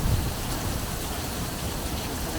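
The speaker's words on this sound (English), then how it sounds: "That's a heavy downpour with a lot of strong breeze." Heavy rain downpour with strong breeze in Chicago, a dense, steady hiss of rain pouring down and blowing across surfaces, loud and unbroken throughout.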